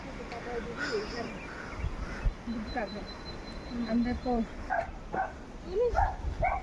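Pet dogs at a village home in Sikkim bark and yip at an approaching visitor, several barks at close range, mixed with voices and background talk.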